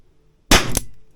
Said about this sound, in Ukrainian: Четвертий постріл.